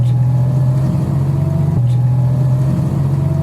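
Vintage Panhard car with an 848 cc engine running steadily, a loud, constant low engine drone with a slight rhythmic pulse and no talking.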